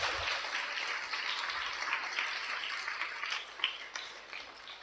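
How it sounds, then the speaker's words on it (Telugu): An audience at a church shrine gathering applauds for a Father, a sustained wash of many hands clapping, fairly faint and distant, lasting several seconds. "మనం అందరం కూడా ఒకసారి ఫాదర్ గారి గట్టిగా చప్పట్లు కొడదాం."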